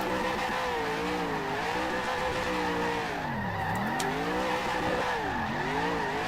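A race car in a racing video game doing a celebration burnout. The engine revs loud and steady, and the pitch dips and swells as the tires skid and squeal continuously, with no talking.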